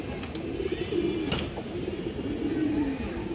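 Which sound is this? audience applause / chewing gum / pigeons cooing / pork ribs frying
pigeons cooing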